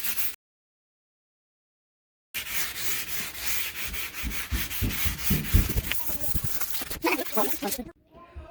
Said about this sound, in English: So right now I'm gonna be using a P400. So I'm just gonna sand as much as I can.